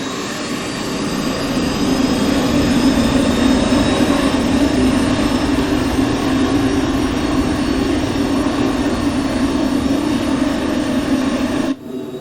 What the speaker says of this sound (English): I do love the engine sounds on this 510.